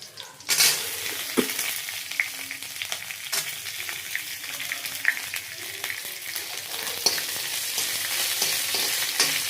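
Bajji chillies sizzle steadily in hot oil as a tempering for sprouts, with a busy crackling hiss, occasional pops and the scrape and clink of stirring in the pan.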